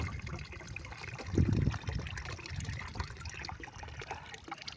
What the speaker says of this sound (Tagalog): Galing bundok ang tubig.